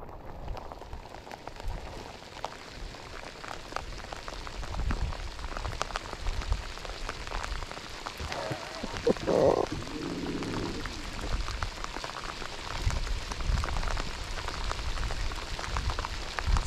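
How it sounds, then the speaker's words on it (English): Heavy rain pours down relentlessly during a multi-day river trip on the Murray, a dense steady hiss of drops on surfaces lasting throughout, with a brief louder splash midway. "It is just pouring down."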